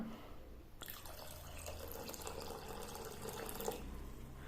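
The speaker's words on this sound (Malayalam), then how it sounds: "ഇതിൽ നമ്മൾ ആദ്യമായിട്ട് നമ്മളുടെ ശംഖുപുഷ്പം വേവിച്ച വെള്ളം ഇതിനകത്ത് ചേർക്കുകയാണ്" Boiled butterfly pea flower water poured into a pot of herbal porridge, a steady close liquid splash lasting a few seconds at low volume before stopping.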